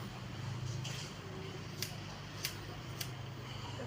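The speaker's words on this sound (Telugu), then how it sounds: "కత్తెర బాగుంటే ఫాస్ట్గా అయిపోతుంది" Scissors snip at a child's hair in a quiet room, three crisp, separate cuts spaced about half a second apart over a faint background hum.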